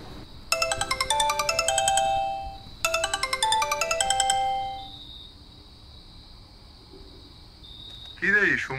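A cartoon mobile phone rings for an incoming call: two bright, rapid melodic bursts of chiming electronic notes, close and loud, followed by a quieter stretch and then a short voice.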